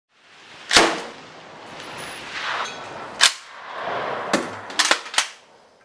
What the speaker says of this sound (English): let's check out some footage of a friend of mine shooting this